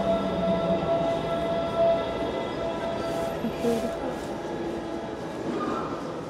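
A metro train rumbles into a station, its low drone steady with faint squeals, while a voice talks quietly nearby.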